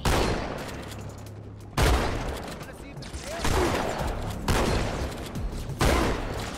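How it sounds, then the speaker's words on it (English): Shotgun blasts in the Halo 2 video game, several loud broadband booms spaced a second or two apart amid continuous gunfire and game noise, with a voice talking over the action. "Oh my god, the shotguns are good."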